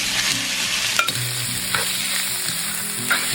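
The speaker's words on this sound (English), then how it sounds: "With a little bit of oil, stir-fry the protein over medium-high heat." Meat stir-frying in a little oil over medium-high heat for jajangmyeon, a steady close sizzle with a few sharp clacks of a utensil against the pan.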